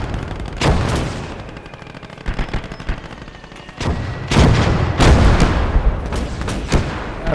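Anti-tank guns firing in the Gates of Hell: Red Star Rising video game, a string of sharp, loud gunshot blasts with heavier booming reports, irregularly spaced and thickening into near-continuous fire toward the end.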